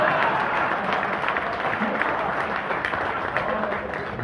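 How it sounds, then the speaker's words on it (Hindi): Audience at a Lions Club comedy laughter show in Guwahati claps continuously, a dense, steady wash of applause filling the room throughout, with possible voices mixed into the crowd noise. "और अगली पंक्ति पर सबसे ज्यादा ताली आएंगी।"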